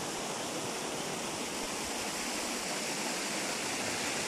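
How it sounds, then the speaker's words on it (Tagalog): Steady broadband rush of a waterfall flowing at an outdoor falls, a continuous dense roar with no breaks, fairly close and filling the whole clip. "Ito po ang kadugtong ng waterfalls."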